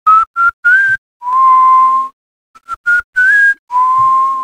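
A person whistles softly and close to a microphone, in short rising notes and longer held tones separated by brief silences, clear and bright with no talking.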